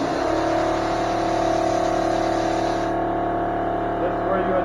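Steady loud mechanical drone of an air compressor motor running continuously during a drywall repair job, constant and close with no breaks.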